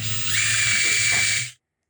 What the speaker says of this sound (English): Take the drill, drill it out